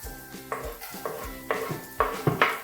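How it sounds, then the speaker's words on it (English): Garlic hits a hot frying pan while cooking steak and sizzles steadily, with a utensil scraping and stirring in several sharp strokes close by. "garlic into the pan"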